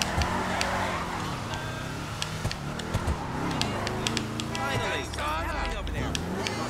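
Weeny Dynasty small car driving and drifting through a street section in GTA Online, engine revving steadily with tire squeals and skids, someone talking over the top throughout.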